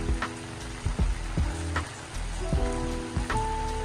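Heavy morning rain pours steadily over a garden, a dense hiss of drops with sharper splashes and taps from nearby surfaces, close and continuous with no talking.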